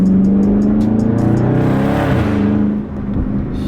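A Dodge Charger Scat Pack V8 revs hard up through a gear, the pitch climbing before a quick shift drops it, loud and close from inside the car with a brief lull after the change.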